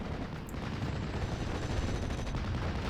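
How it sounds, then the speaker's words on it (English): Battle sounds from the Steel Division: Normandy 44 video game, with dense, rumbling mortar and gunfire forming a continuous low roar and a few sharper reports standing out. "the M4, accompanied by the mortar fire, is currently pushing back Theoman in the centre"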